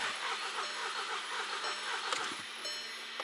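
A four-cylinder car engine cranks on the starter during a relative compression test with all spark plugs installed, giving a steady, evenly pulsing churn that runs the whole time with a few brief clicks near the end.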